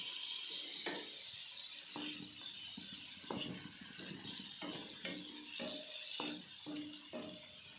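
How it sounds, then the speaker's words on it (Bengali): Salted paneer fries lightly in hot ghee in a pan, giving a soft, steady sizzle, with scattered clinks and stirring knocks spaced through it. "পনিরটা একটু হালকা ভেজে নেব।"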